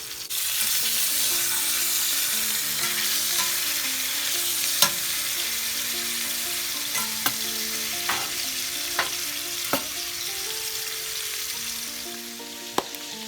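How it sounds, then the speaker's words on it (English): Pot roast sears in a hot pot, a continuous close sizzle with a few sharp clicks and scrapes as the meat is shifted. "We're just searing it up."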